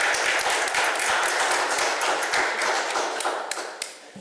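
Audience applause for the mayor for the day at a regular council meeting, a sustained crowd of hands clapping in a room, fairly close and even, thinning toward the end with a few louder individual claps.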